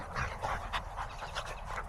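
A dog pants steadily and rapidly close by during leash training, with quick rhythmic breaths and no talking.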